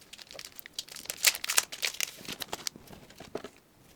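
Crinkling plastic and paper packaging rustles and tears in close, irregular bursts as a Hobonichi Weeks Mega planner is unwrapped, loud in the middle and fading toward the end, with no voices.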